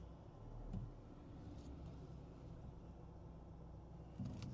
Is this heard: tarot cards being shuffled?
no